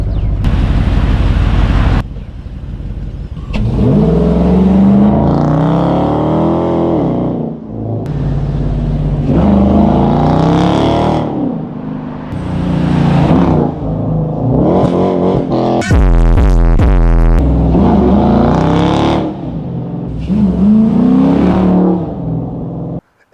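A 2014 Dodge Charger R/T AWD accelerating hard, its engine revving up in repeated loud surges and shifts with rumbling exhaust, heard up close with brief pauses between pulls.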